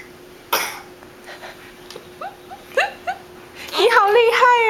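A young child imitates an elderly grandmother's cough, giving a few short, throaty coughs and throat-clearing sounds spaced apart, followed by a longer, strained vocal rasp near the end, recorded close up indoors.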